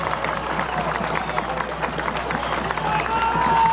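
A large outdoor crowd at an anti-imperialist march in Los Próceres claps and cheers for the Bolivarian National Armed Forces, a dense, steady wash of many hands that swells slightly toward the end, with a thin whistle-like tone rising briefly near the close.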